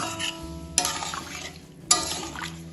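Prawn and drumstick curry stirred with water in a pan in a home kitchen, a steady wet scraping swirl with two sharper utensil clinks against the pan, close and alone.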